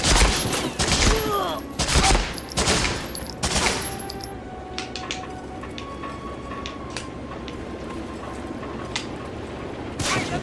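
Gunfire in the Medal of Honor: Frontline World War II shooter: dense bursts of rifle and machine-gun shots crackle loudly for the first few seconds, then thin out into scattered distant shots and game ambience, with one more burst at the end.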